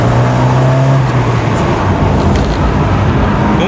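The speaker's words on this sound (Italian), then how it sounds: "Sentite il borbottio del motore 2000 Twin Spark dell'Alfa. Proviamo a far sentire un po' in accelerazione." Alfa Romeo 75 with a 2.0 Twin Spark engine accelerating on the road, a loud steady drone of engine and road noise heard from inside the car with a rising tone in the opening second.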